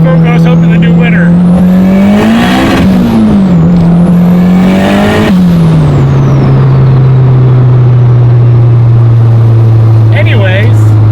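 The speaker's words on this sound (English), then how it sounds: "This is raw Honda power." A turbocharged Honda Civic Si engine revs hard twice in close succession, its pitch sweeping up and falling back, then settles into a loud, steady low drone.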